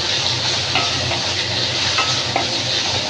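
Onion fries in hot oil with asafoetida in a pan, a loud steady sizzle close up with a few soft stirring scrapes.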